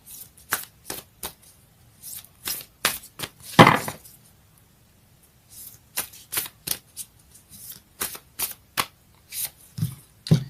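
Moonology oracle cards being shuffled by hand in quick irregular bursts of crisp riffling and slapping, close and clear with short pauses between.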